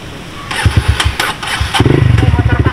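A motorcycle engine cranks with a few sputtering bursts, then catches and settles into a steady, close idle.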